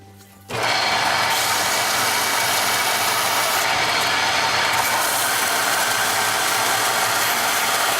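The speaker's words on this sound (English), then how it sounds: "put it on the flat sander and flat sand this end and that end real quick" A flat sander runs steadily at close range, a loud, even broadband grinding hum that starts abruptly after a brief quiet moment and holds for the rest of the span while ends of a laser-built part are sanded flat.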